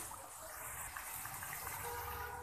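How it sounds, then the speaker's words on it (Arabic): Hot water gushing into a pot of browning duck on the stove; a steady, close pour and sizzle runs throughout with no talking. "واقوم زيداها بالميه، الميه سخنه طبعا"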